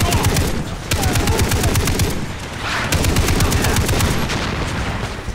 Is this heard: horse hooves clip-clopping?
no